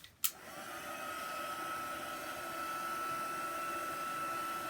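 A hair dryer blows steadily to dry chalk paint on a decorative tray, starting with a click and then a continuous, even whoosh that holds at a moderate level throughout.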